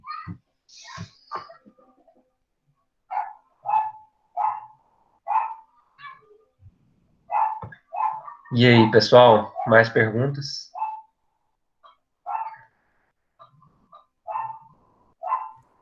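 A neighbor's dog barks repeatedly nearby at night, sharp single barks spaced every second or so, with someone speaking briefly over them in the middle.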